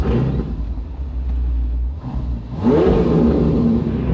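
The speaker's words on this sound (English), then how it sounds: "Just enjoy your Ferrari, because it sounds pretty damn good." Ferrari Portofino engine revving up loudly close by, a steady low drone that dips briefly before surging into a stronger, rising roar.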